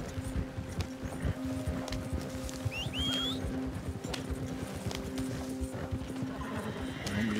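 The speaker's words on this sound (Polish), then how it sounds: "Popędzimy za to konia maksymalnie jak się da" Horse hooves clip-clopping and galloping in Red Dead Redemption II, pushed to top speed along a road. A steady hoof rhythm runs throughout over game ambience, with a brief neigh or whinny partway through.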